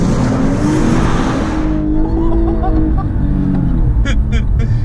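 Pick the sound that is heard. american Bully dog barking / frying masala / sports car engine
sports car engine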